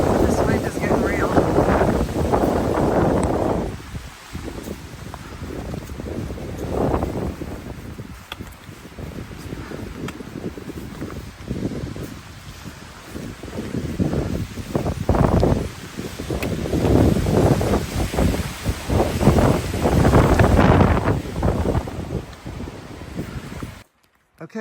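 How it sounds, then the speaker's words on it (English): Strong gusting wind on the Appalachian Trail buffets the microphone in loud, roaring surges that rise and ease, with a hiker talking briefly under the blasts. "This wind is getting real."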